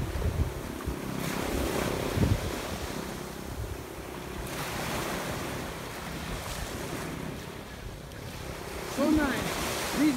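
Waves wash onto a tropical resort beach in Mindoro, a steady rolling surf mixed with gusty wind buffeting the microphone, fairly close, with a faint voice briefly audible under the noise.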